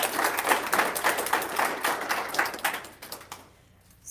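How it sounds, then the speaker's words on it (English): A modest audience at a candidate forum claps for the candidates. The individual hand claps are distinct and uneven, loud at first, then thinning and dying out into quiet. "I think you should show your appreciation with applause."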